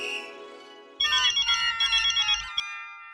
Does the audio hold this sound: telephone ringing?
yes